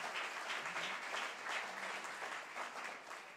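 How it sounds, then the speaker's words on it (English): Steady round of audience applause at an evening lecture series event, continuous dense clapping of moderate loudness heard from a distance, with no voices over it. "Give Elihu a round of applause."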